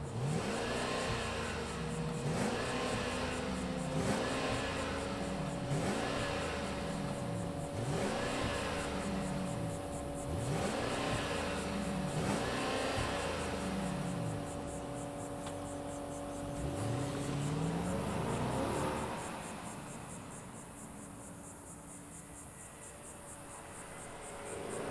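A 2024 Mercedes-Maybach GLS 600 engine fires up and revs repeatedly, rising and falling in a series of close, loud sweeps under a steady hum before settling to a quieter idle near the end.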